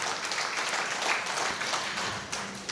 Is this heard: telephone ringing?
no